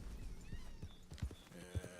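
A horse's hooves clip-clop in Red Dead Redemption 2, a quiet, uneven run of soft thuds over a low, busy game soundscape.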